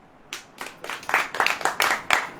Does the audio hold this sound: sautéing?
no